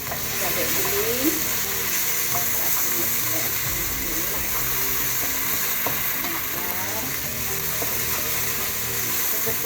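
Ground chili paste sizzles steadily in a hot pan for oxtail soup, with scraping stirs and faint clinks over a continuous frying hiss, close and fairly loud.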